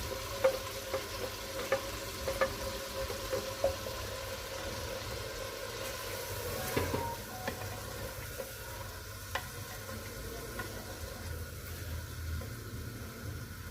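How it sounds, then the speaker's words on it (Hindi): Meat frying in a pan as a paste of garlic, ginger, tomato and green chili is added, producing a continuous low sizzle with scattered clicks and stirring scrapes, close but fairly quiet, without talk. "अब मैं इसमें ग्राइंड किया हुआ लहसुन, अदरक, टमाटर और सब्ज़ मिर्च का पेस्ट ये डाल दूँगी।"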